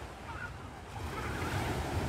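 Sea surf rolling onto Uchkuevka beach in Sevastopol, Crimea: a steady, continuous wash of waves with some wind noise on the microphone, building slightly louder toward the end, no voices.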